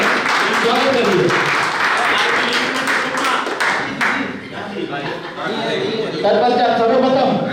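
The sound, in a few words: audience applause welcoming the tournament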